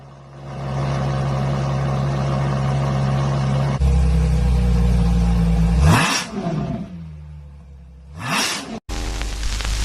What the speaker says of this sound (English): LaFerrari sound check.